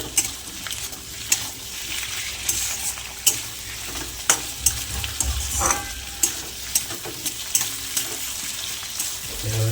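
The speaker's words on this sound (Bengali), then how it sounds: "ভালো করে মিলিয়ে নেবো।" Soya chilli with chopped tomato frying in a pan, a steady low sizzle broken by regular scrapes and taps of the stirring spoon, close and moderately quiet, with no talking.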